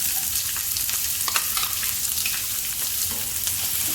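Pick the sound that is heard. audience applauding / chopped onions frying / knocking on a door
chopped onions frying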